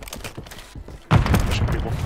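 Gunfire in Call of Duty: Warzone: a loud, sudden burst of shots erupts about halfway through and continues to the end, after a quieter first second with a voice and faint background noise.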